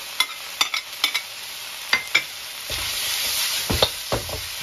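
Shredded pork and jellyfish stir-fried in a wok over high heat, with a steady sizzle and a series of sharp metallic scrapes and clanks as a utensil tosses the food.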